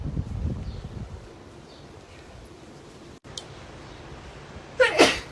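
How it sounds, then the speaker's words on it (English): After several quiet seconds of faint background noise, one sharp, loud sneeze bursts out close by near the end. "I'll let you look at the ocean while I sneeze."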